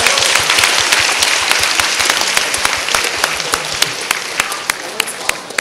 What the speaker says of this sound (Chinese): 给大家再来给他们鼓掌一下好吗？